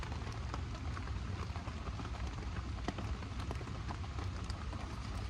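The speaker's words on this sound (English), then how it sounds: "Rain's so nice, isn't it?" Rain falling on a bike camper parked by a river, a steady soft patter with scattered sharper drops striking the surface, fairly quiet and continuous with no voices.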